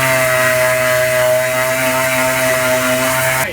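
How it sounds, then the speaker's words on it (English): Power sander working Bondo filler over a rusted patch on a car body: a loud, continuous droning whir with a steady pitch that holds for several seconds and then cuts off abruptly at the end. "So of course I'm doing some sanding on it."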